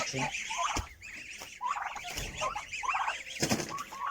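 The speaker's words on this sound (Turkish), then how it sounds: "Burada da hindilerimiz var." Turkeys gobble in a poultry yard, sending out repeated warbling calls at moderate distance. A few clicks and thumps sit beneath the calls, and nobody talks.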